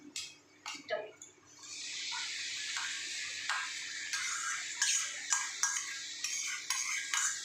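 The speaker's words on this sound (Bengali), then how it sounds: "এবার আমি এটাকে একটু নাড়ব" A spoon stirs capsicum and potato curry in a pan, a steady scraping, sizzling wash with rhythmic strokes against the metal, preceded by a few brief clinks.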